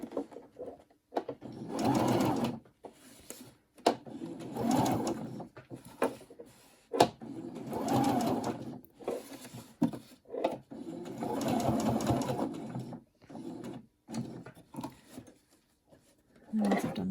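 Sewing machine stitching back and forth across a fabric face mask, running in several bursts of steady motor whir with short pauses and clicks between passes, close and clear with no talking.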